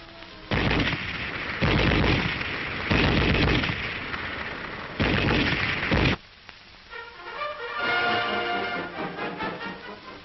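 A German MG-34 7.92 mm machine gun fires four loud, sustained bursts separated by short pauses, followed by quieter, lingering sound.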